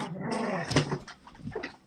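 A dog growls and whimpers close by in a short, rough burst peaking near the middle, heard in a room during casual talk, with no clear voices over it.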